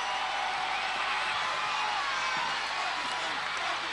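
Arena crowd at a 1997 UK Gladiators heat applauding and cheering a contestant, a steady, dense wash of clapping and crowd noise holding at even loudness throughout.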